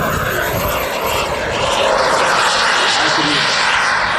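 Large-scale RC model of a Dassault Falcon business jet with a turbine engine, flying past with a loud, steady broadband roar and whine that swells slightly and holds for several seconds.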